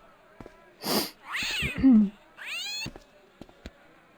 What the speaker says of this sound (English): So we pet the kitty.